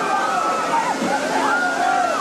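Heavy water pouring and sloshing on a huge Titanic film set as the ship's front section floods over actors, a steady continuous rush with gurgling swirls, mixed under indistinct voices.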